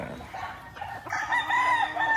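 A Boston Roundhead chicken crows nearby, a short rising call over soft background clucking and faint farmyard noise.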